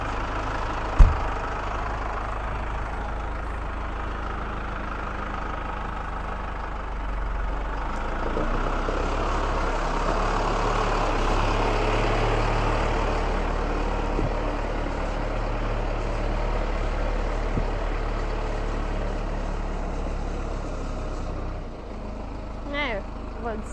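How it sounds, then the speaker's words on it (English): A tractor engine rumbles steadily as a silage trailer passes through a farmyard, its loud broadband drone swelling and fading over about twenty seconds with a brief knock near the start. "Silage trailer number 2."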